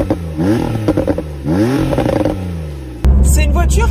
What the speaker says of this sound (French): on entend plutôt bien le son du moteur, bien que ce ne soit pas un atmosphérique